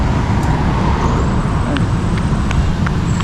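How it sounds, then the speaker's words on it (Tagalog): Busy afternoon road traffic at a city street crossing, a steady loud roar of cars, buses and trucks passing close by, with brief higher whines and clicks scattered through the wash of engine and tyre noise. "Grabe ang traffic paghapon dito"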